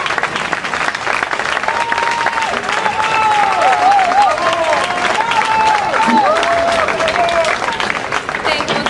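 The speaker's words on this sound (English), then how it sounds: "Another warm round of applause for Omi Oda and all of the performers here." Warm, sustained applause from a crowd after an ensemble's performance, loud and continuous, with voices and a few whistles or calls rising through the clapping.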